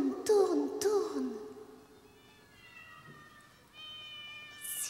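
Cats meow in a few drawn-out calls near the start, followed by quieter, thinner tonal mewing that drifts in the background, all fairly close and without any talking.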